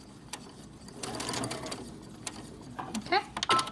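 A sewing machine back stitches the top edge of a fabric table topper, giving short mechanical whirring bursts that start and stop. The sound is moderately close and quiet, with faint room noise between bursts.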